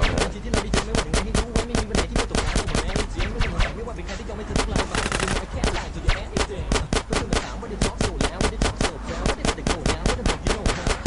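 Rapid gunfire fills a GTA multiplayer match, loud bursts of automatic fire crackling almost continuously with brief gaps, while players talk and shout underneath.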